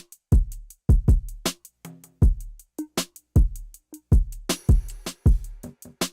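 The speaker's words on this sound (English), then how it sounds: "I just dragged in one of the drum loops from my nostalgia pack," Live-style drum loop with a nostalgic 2000s feel layered into a trap beat: punchy kicks with low tails, crisp snares and busy hi-hat and cymbal hits in a dense, swinging groove, loud and clear with no talking.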